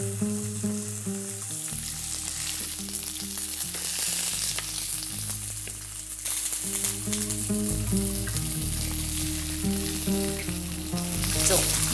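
Half-moon slices of celery sizzle and fry in a pan. A steady, crackling fry carries through the whole clip alongside background music, with occasional stirring.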